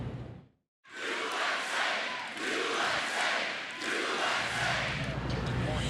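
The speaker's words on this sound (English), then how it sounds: "And the crowd chanted USA chants throughout the night here at the Marco Rubio rally in Miami." Rally crowd at a Marco Rubio event in Miami chanting USA, a loud, dense roar of many voices that sustains in rhythmic swells after a brief pause near the start.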